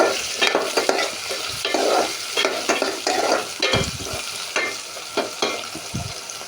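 Long beans fry with tomato and green chili while being stirred, a loud close sizzle overlaid by rhythmic scraping and tossing strokes against the pan, with no voices.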